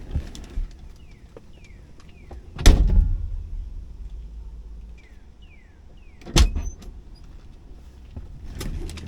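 Car door handled as someone climbs out of a parked car, two loud sharp thumps a few seconds apart amid quiet rustling and small clicks, with no talk.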